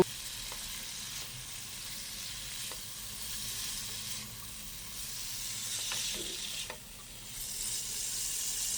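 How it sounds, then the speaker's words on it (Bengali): Fried eggplant pieces stirred in a frying pan with a turmeric and salt spice base, giving a steady broad sizzle with a few soft scraping strokes, close and unbroken, with no voices. "বেগুনগুলো দিয়ে সব কিছু একসাথে এক মিনিট মতো একটু নেড়ে নিয়ে"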